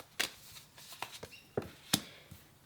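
Tarot cards are shuffled by hand in a few irregular riffling and slapping bursts, close and fairly quiet, with no one talking.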